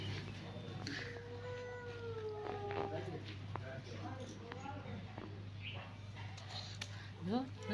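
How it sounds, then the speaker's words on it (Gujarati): A cat meows several times, drawn-out and close, while people talk and call out nearby over a low steady hum. "પાળેલો મીંદડો છે"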